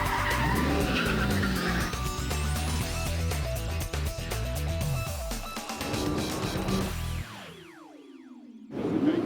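Race cars at the start of the Bathurst race, a loud wall of roaring engines with squealing tires and shifting revs, ending in a near-silent gap with a few sweeping engine passes and a final roar.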